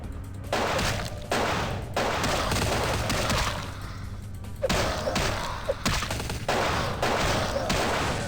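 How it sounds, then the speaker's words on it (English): Gunfire in Vampire The Masquerade Bloodlines, repeated loud shots and heavy thuds in uneven bursts across several seconds, close and without speech. "Who is shooting?"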